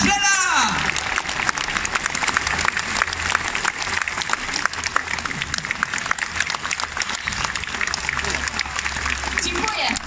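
An audience at the Opole 2020 festival applauds as the performer's assistant is introduced onstage. The clapping is loud and sustained, with a brief cheer at the start and a low musical hum underneath throughout.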